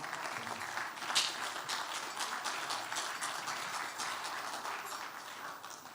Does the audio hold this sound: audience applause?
yes